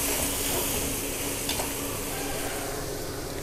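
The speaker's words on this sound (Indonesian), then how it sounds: "Nah, gongsot dulu bumbunya." Spice paste sizzles and fries steadily in a pan while being stirred, a dense continuous crackle that stays close and loud throughout, for a young jackfruit vegetable dish.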